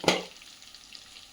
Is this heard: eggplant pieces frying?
yes